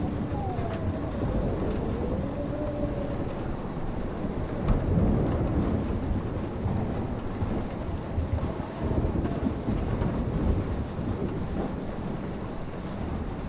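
A thunderstorm rumbles on in Life Is Strange, with steady rain and wind noise and low, rolling thunder. Faint voices sound beneath it.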